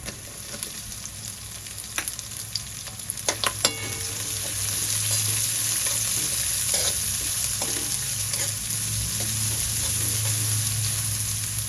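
Chopped onion stir-fried in ghee and oil with cumin, green chilli and garlic, a steady close sizzle with sharp spatula clicks against the pan early on, then continuous frying hiss.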